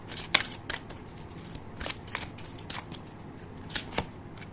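Tarot cards are shuffled and drawn by hand, with a series of crisp riffling snaps and light card slaps at an uneven pace, close and clear.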